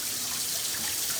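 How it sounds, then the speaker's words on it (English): Cold tap water runs steadily over pork belly in a kitchen sink, a continuous bright hiss and splash at close range with no talking. "And then flush it with cold water."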